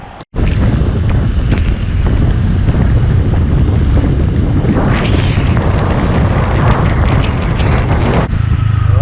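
Loud, steady roar of strong wind buffeting the microphone on a ride toward the ferry port at Matnog, Philippines, continuous and unbroken, with a faint engine rumble underneath.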